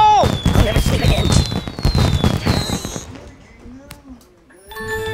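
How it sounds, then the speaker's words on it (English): Chinese firework going off in the video game Kick The Buddy, a rapid dense crackling barrage of pops and whistling streaks, loud and close, then fading to scattered crackles and a final burst. "Ooh, a Chinese firework."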